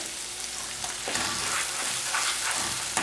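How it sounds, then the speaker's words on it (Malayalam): Onion and ground spice paste sautéing in hot oil for egg curry, a steady dense sizzle that grows a little louder midway and carries on alone without talk. "വീണ്ടും ഇതൊന്നുകൂടെ ഈ എണ്ണയിലൊന്ന് വഴറ്റിയെടുക്കുക"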